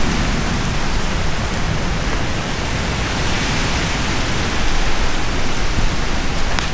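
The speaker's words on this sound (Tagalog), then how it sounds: "Puro hangin." Strong typhoon wind roars outdoors in Vigan City, a loud, steady broadband rush with no pauses that fills the whole stretch, with no one speaking over it.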